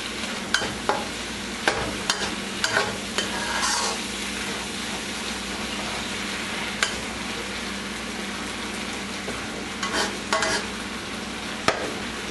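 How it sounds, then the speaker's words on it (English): Green chili peppers frying and being stirred in a pan for Indian eggplant bhartha, a steady close sizzle broken by sharp scrapes and clacks of the spoon against the pan. "We're going to go ahead with the green chili pepper. Just mix them for a second or 3."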